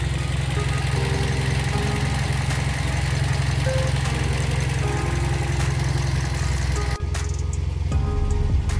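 A third-generation Toyota Vios engine idles steadily with a low, even rumble and hum, close and continuous, and a short clunk near the end.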